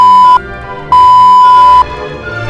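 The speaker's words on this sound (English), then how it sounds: "I don't want the entire video to be just beep, beep, beep." Three steady high-pitched censor beeps cut across the track, each a sustained tone lasting under a second, sounding loud and alone with a dense gaming mix underneath.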